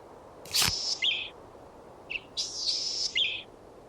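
Galah calls from the Wingspan Oceania Expansion bird encyclopedia: a sharp click, then a few harsh, screechy cries in two bursts, close and clear over a quiet background.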